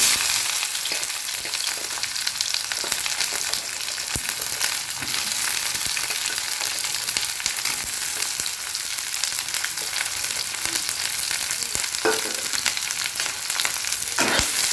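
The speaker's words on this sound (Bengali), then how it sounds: "এবার আমি দিয়ে দিচ্ছি কুচুনো পেঁয়াজগুলো" Chopped onions sizzling in hot oil with whole garam masala for Bengali chicken posto, a dense continuous frying hiss with occasional stirring clicks, close and steady throughout.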